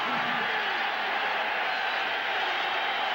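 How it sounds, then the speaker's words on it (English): A large football stadium crowd roars in a steady, dense wash of cheering noise that holds at an even level throughout, heard from a distance without distinct individual voices. "The crowd is back into this. You can hear them."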